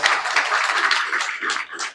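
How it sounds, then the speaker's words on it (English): Audience applause for panelists at a producers' panel event, a sustained wash of many hands clapping at moderate loudness, fading slightly toward the end. "We go ahead and give our panelists a big round of applause."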